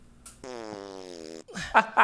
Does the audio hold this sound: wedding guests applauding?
no